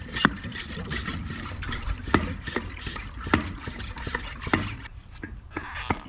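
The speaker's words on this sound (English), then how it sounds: "Tighten your lid, and then just start pumping." A handheld pressure sprayer filled with concrete sealer is pumped by hand, giving a steady series of sharp strokes roughly once a second over a soft hiss and faint rubbing, close and moderately loud.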